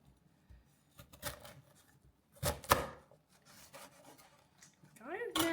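A knife slices through the end of a fresh corn cob on a cutting surface, giving a few short, close rubbing cuts and scrapes with a brief squeak near the end, quiet and alone.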